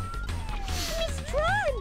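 A police siren wails in the Tron Bonne video game, a rising and falling electronic tone that sweeps downward, then climbs again louder near the end, with game sounds and low background noise underneath.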